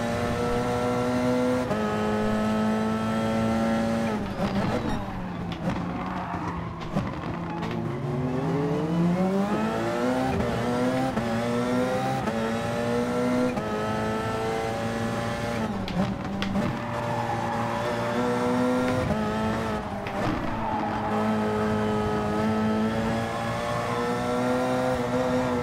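A race car in the Gran Turismo Sport game roars loudly and continuously, its engine pitch sliding down under heavy braking and climbing again as it accelerates, with faint tyre noise and no speech.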